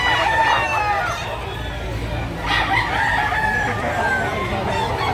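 A native chicken rooster crows loudly nearby, its drawn-out call repeating amid clucking hens and a murmur of people talking in the background.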